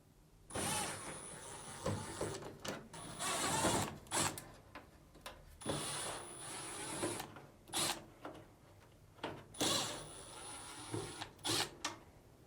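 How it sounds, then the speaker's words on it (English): Phillips screws being backed out of the top cover of a Samsung dryer, a close, moderately loud run of whirring and clicking bursts that stop and start several times, with brief quiet gaps between screws. "Now, remove these 4 Phillips screws."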